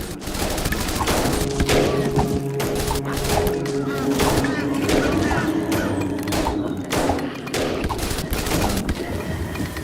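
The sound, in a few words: machine gun turret fire in the video game They Are Billions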